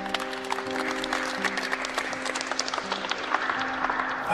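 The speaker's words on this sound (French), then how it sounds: "Applaudissements dans l'hémicycle." Applause in a parliament chamber, a steady patter of many hands at moderate level, with sustained tones beneath it through the whole span.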